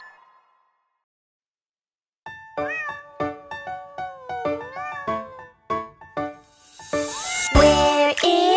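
A cat meows repeatedly in a children's English song, a string of clear, close, pitch-bending calls over several seconds, ending in a louder rising cry with some noise.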